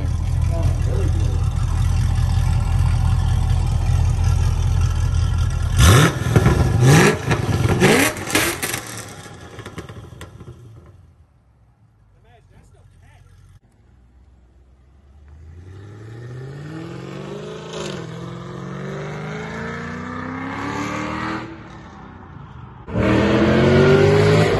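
A Chevy SS fitted with Kooks headers and stock mufflers revs hard, with loud throttle blips and roaring bursts up front. The engine then winds up through rising acceleration sweeps and comes back loud near the end.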